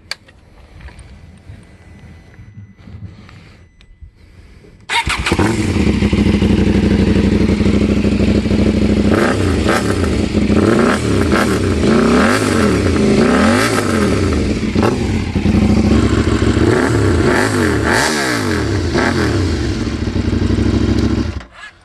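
A KTM 790 Duke fitted with an Orion Performance dual exhaust starts at a quiet idle, then bursts into loud, sustained revving, rising and falling repeatedly for about seventeen seconds before cutting back.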